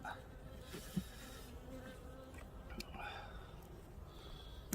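Honeybees buzz around a beehive on a December day: a faint, continuous soft hum with small rises in pitch as insects pass close, and no talking.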